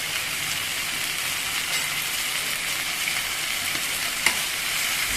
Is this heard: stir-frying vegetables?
yes